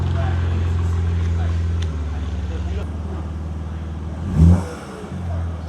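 BMW G80 M3 with a 4-inch modular midpipe running, a deep steady exhaust drone heard from a short distance, easing off partway and then a brief rev blip near the end.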